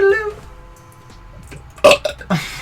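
A loud, close human burp rises clearly alone, then a couple of shorter vocal bursts follow.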